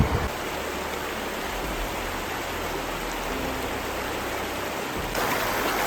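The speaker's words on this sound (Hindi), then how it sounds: "हमने ये रिवर क्रॉस करके जाना है, बहुत तेज़ पानी।" Fast-flowing river water at a crossing in Pakistan makes a loud, constant broadband rush that fills the whole scene, with no voices heard above it.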